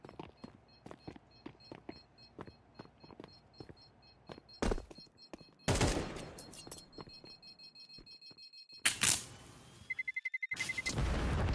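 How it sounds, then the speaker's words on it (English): A bomb goes off in a competitive shooter match: after a steady run of ticking beeps, a loud booming blast bursts out, followed by more bursts and electronic tones, with no talk. "Bomb goes off and it's 10-12."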